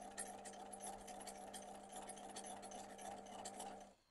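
A sewing machine stitches steadily around the edge of water-soluble embroidery, a fast, even mechanical whir with rapid needle ticking, close and quiet, stopping abruptly at the end.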